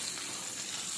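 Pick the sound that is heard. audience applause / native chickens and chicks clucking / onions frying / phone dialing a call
onions frying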